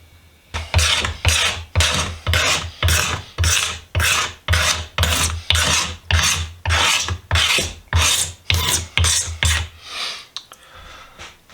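A tool scrapes stickers off a boy's axe head in about seventeen regular, rasping strokes, each a loud, gritty rub at close range. The strokes repeat at a steady pace and then stop.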